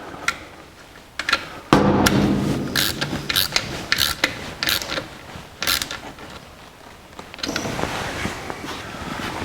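Hand tools click and creak while a throttle cable mount is bolted on and tightened on a 1949 Chevrolet with a Mr. Gasket 5657 throttle cable kit. Close, irregular ratcheting clicks and scraping metal sounds run throughout.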